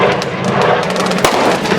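An old firework banger from 1992 goes off amid dense, crackling outdoor fireworks noise, with one sharper bang standing out briefly above the continuous loud clatter.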